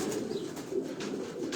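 Pigeons coo softly on a rooftop in a steady low murmur, faint and continuous against a little background noise.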